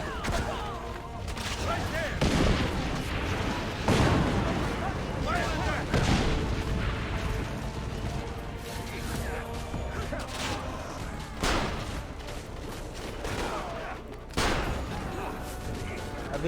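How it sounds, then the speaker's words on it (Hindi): Cannons and gunfire boom in an Assassin's Creed Revelations battle against the Ottoman Empire, with repeated heavy blasts over a dense wash of game noise and a voice talking throughout. "हमें अब कैनन चलानी पड़े, कैनन चलाएंगे"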